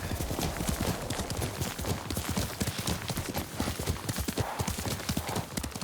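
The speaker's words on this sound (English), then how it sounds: "Yuriko's horse. She can't be far." Horse hooves clip-clop steadily and close in the Ghost of Tsushima video game, a brisk, even rhythm of hoofbeats running unbroken over a soft outdoor ambience.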